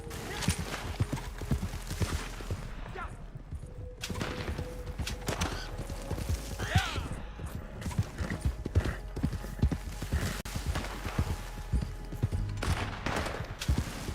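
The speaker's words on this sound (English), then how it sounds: "A lot of shooting going on." Video game gunfire rattles in dense, continuous bursts through a busy, noisy mix of rapid impacts and clatter, steady and moderately loud for the whole stretch, without clear speech.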